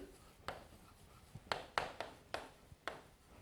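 Marker strokes on a board during a physics lecture on magnetic effects of current, several short scratchy squeaks in uneven rhythm, close and fairly quiet with no talking.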